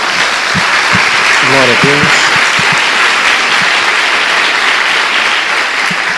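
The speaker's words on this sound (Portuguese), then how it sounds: "Dê uma salva de palmas a Jesus." Church congregation applauding steadily throughout, loud and sustained, with a voice speaking over the clapping.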